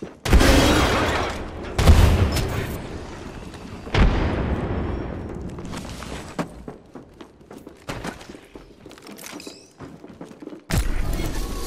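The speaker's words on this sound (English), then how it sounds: "Grenade!" A few heavy booms and thumps from a grenade and weapons in Apex Legends, loud bursts spaced across the stretch with quieter rumbling between them.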